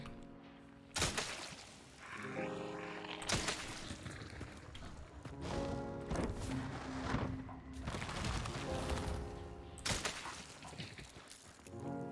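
Gunshots fired at a boss in the video game Hunt: Showdown, several loud, sharp booming shots spaced a few seconds apart, each with a long echoing tail over a rumbling in-game background.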